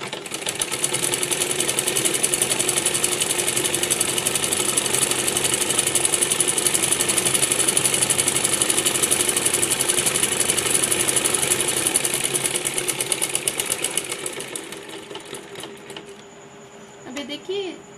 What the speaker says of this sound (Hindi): और इसके बीचों बीच एक सिलाई लगा लेंगे।